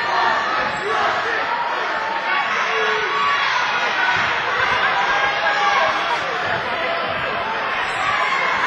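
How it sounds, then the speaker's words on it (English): Basketball game crowd between Scott and Wyoming East erupting in a loud, sustained roar of disapproval across a gym, with dense overlapping voices and shouts and no break in the noise. "I think the whole crowd didn't like that one, it's safe to say."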